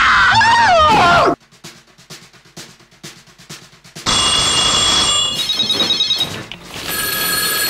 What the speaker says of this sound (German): Kann wohl mal jemand an das verdammte Telefon gehen?